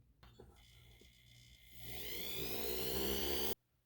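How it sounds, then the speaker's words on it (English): A pumice polishing wheel works a sterling silver pendant, starting as a faint motor whir and swelling into a louder, steady grinding whine that stops abruptly. "now I'm just going to remove the scratches again with the pumice wheel"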